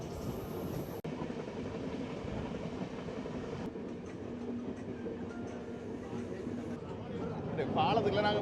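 Passenger train on the Jaffna to Vavuniya line rolling along with a steady rumble and wheel noise, heard from inside a carriage, with people talking and some music over it.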